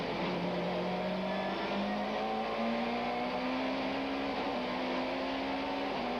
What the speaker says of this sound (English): the BMW closes right up on the Ford under braking